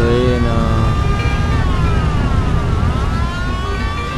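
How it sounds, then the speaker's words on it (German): A police siren from the video game Mafia wails in steady, sweeping tones over a constant car engine rumble, loud and unbroken throughout. "Diese nervige Sirene."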